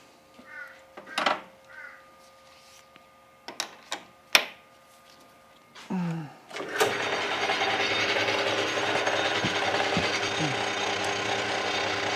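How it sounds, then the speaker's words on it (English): Several clicks and ratcheting knocks, then a power drill whirs up and drills a hole in an old indicator stand's clamp, running steadily and loudly, with its pitch dipping briefly near the end. "So, now it's time to drill."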